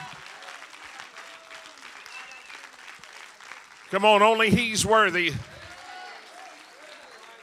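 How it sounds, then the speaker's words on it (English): Church congregation giving a hand clap of praise, the scattered clapping faint in the background beneath a preacher's voice, which rises into a loud, ringing shout partway through before settling back. "Let's give Jesus a hand clap of praise."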